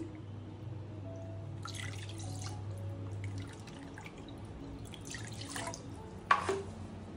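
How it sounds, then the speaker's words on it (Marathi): Water poured off settled arrowroot splashes and trickles in a few short pours over a low steady hum, ending with a sharp clink of a container. "हे वरचं पाणी मी टाकून देणार आहे।"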